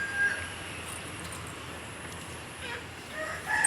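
Chickens at a house with a chicken coop in the Hassan area: faint, distant clucking and a crowing rooster over a steady outdoor background hiss.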